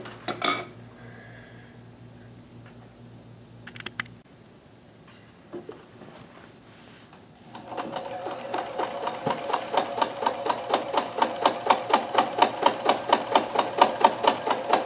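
A Kenmore 158.1914 sewing machine chain stitching: after some faint handling clicks and quiet, the needle starts a fast, steady run of close, evenly spaced mechanical beats that carries on loud and regular to the end.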